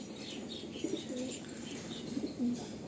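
Pigeons at a breeder's loft cooing softly in low repeated phrases, with a brief wing flutter near the end over faint background hiss.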